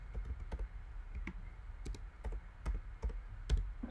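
Quick, light keystrokes on a computer keyboard, irregular clicks heard up close but fairly quiet as text is typed in.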